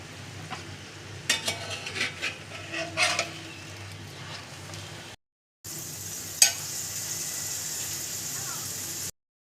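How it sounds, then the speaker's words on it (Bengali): A soybean paratha fries on a new tawa: a low sizzle with intermittent scraping and clattering, broken by two abrupt cuts to silence. "পরোটা ভেজে নিয়েছে"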